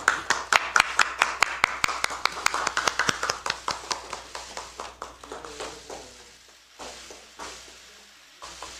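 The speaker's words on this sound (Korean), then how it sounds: "박수로 환영해 주시기 바랍니다." An audience at a Democratic Party candidate-recruitment event claps to welcome a guest, a few sharp distinct claps at first, then fading and thinning to scattered single claps toward the end, with no talk over them.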